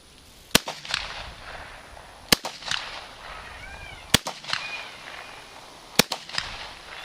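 Four sharp, loud gunshots from a Volunteer Enterprises Thompson lookalike rifle crack at a shooting range, about two seconds apart, each with a short echoing tail and quieter rustling in between.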